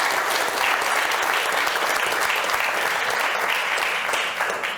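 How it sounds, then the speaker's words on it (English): Round of applause from an audience at a rescue mission's fundraising event honoring kitchen staff: steady, dense clapping from many hands, close and continuous throughout. "So, round of applause for all the hard work people."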